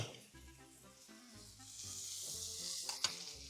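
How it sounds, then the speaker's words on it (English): Butter hitting a hot pan beside an ostrich steak, a brief close sizzle and hiss that builds in brightness over a few seconds, quiet overall with faint tonal background underneath. "I'm going to go in with some butter."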